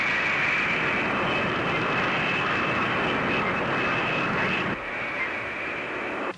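A fixed-wing airplane drones steadily overhead in flight, a loud continuous engine roar with a bright whine, dropping sharply in level near the end.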